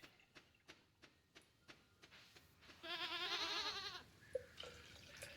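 A sheep in the Stardew Valley video game gives one wavering bleat of about a second, following a run of soft regular game ticks and then a short chime.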